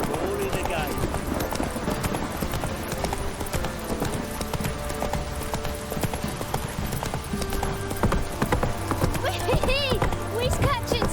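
A horse gallops in The Witcher 3: Wild Hunt, with rapid, continuous clip-clop hoofbeats driving close throughout. A brief whinny and game voices are heard over the pounding rhythm.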